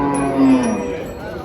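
A single loud, close cow moo at a cattle market, a low drawn-out call rising slightly before trailing off.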